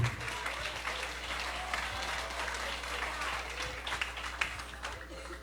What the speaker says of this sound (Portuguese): aplauda a Jesus Cristo